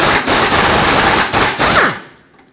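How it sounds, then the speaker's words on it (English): Socket and ratchet work loosening a 15mm bolt on the tow hook of a 2009-2014 Ford F-150, loud close metallic clicking and grinding with a few sharp knocks, ending abruptly. "So use a 15mm socket and remove it."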